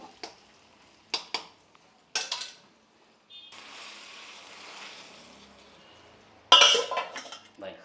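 Curry leaves in a tempering crackle and hiss in a pan for vegetable bassaru, a steady sizzle framed by scattered utensil clinks and a louder clatter of metal near the end.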